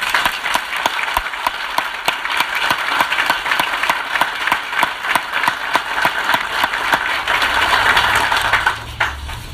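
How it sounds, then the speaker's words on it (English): A round of applause at a ribbon-cutting ceremony for a new company headquarters, with sharp individual claps standing out from a modest group, steady and fairly close, continuing throughout. "Ladies and gentlemen, let's give a round of applause to the man himself"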